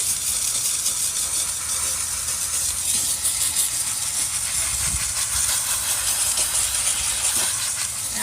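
A steam cleaner hisses continuously and loudly up close while steaming moldy, stained car carpet, a steady broadband jet with no voices.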